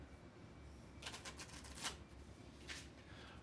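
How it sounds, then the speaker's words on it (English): Playing cards are shuffled in a few quick riffling bursts against a quiet background, with short pauses between them. "So, one more shuffle for good measure."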